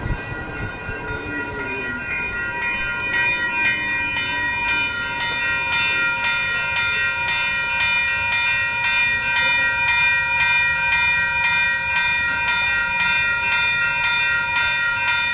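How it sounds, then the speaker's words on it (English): A train passes close by for a long stretch, heard from an eBike on a city street. The steady roar and rumble of the cars carry tonal squeal and ringing tones throughout, loud and continuous, with no talking. "Oh man, we're gonna get a close up of the train."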